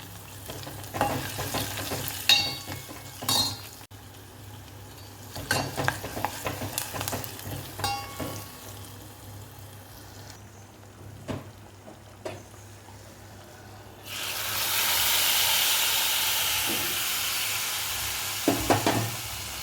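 Light stirring and clinking go on for a while, then a sudden loud, steady sizzling hiss bursts up as a hot oil tempering is poured into a curry of sesame, sorrel leaves and raw prawns.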